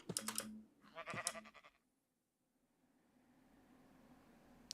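Sheep in the video game Minecraft bleat twice in short, bright bursts, followed by a near-silent stretch with faint background hum.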